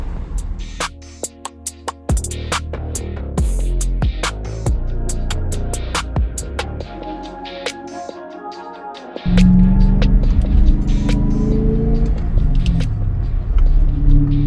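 A BMW M5 engine rumbles during a drive, a deep steady drone that rises in pitch and then drops to a heavier, louder roar after a gear change, close and prominent, with scattered sharp clicks early on.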